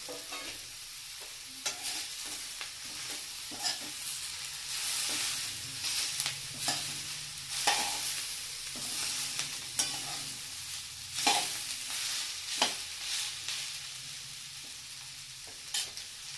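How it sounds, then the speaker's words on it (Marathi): Chopped onion sautéing in a pan with whole spices (khada masala) for a mutton dish, a steady sizzle broken by repeated scraping stirs and clinks of a spoon, heard close with no talking. "आता आपला कांदा परतत आलेला आहे तर जो आपण खडा मसाला घेतला होता तो आपण ह्याच्यामध्ये टाकून सगळ्या ह्याच्यामध्ये एकत्र परतून घेऊया"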